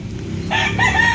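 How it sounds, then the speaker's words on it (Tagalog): A backyard rooster crows once, close and loud, a short bright call rising sharply over quiet surroundings. "May mga manok sila rito eh."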